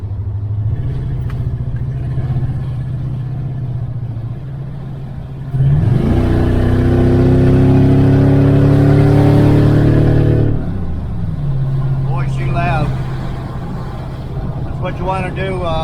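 A 1968 Chevrolet Chevelle Nomad with open exhaust idles with a steady rumble, then surges into a loud, rising roar for several seconds before settling back to idle, with a voice nearby.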